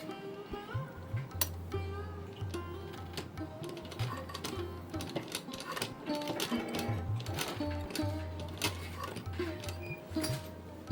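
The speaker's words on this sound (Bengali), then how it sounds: "এবার আমি একটা একটা করে এখানে সেলাই করব।" A sewing machine stitches a colorful Laddu Gopal doll dress in a steady, fast mechanical whir with rhythmic clicking, close and continuous, interrupted by a few brief stops and starts.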